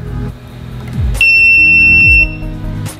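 A loud, high electronic beep from a water leak detector alarm, set off in a tub, holds steady for about a second amid low rumbling and handling noise, with a fainter beep just before.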